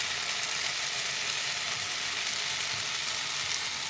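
Jhinge posto, ridge gourd in poppy seed paste with green chillies and raw mustard oil, fries in a pan with a steady, close, hissing sizzle that fills the whole clip without any talk.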